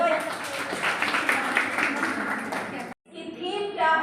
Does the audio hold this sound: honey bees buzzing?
no